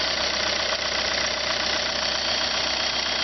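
A 2004 VW Passat 1.9 TDI turbo diesel engine idles steadily, a continuous low rumble with a faint rhythmic knock, close by and unbroken for the whole stretch.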